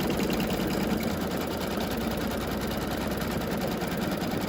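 A machine embroiders over a puffy foam coaster, its steady rapid stitching whirring continuously and close throughout with a fine, even mechanical chatter.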